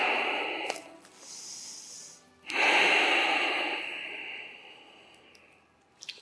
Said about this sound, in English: Just take a few moments to catch up with your breath.